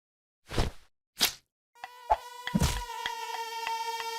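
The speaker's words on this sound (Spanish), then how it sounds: "mosquitos" Two short soft thumps lead into a swarm of mosquitoes in a cartoon: a thin, high, whining buzz with sharp clicks at first, then holding steady and fairly close.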